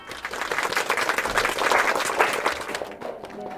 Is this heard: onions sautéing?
no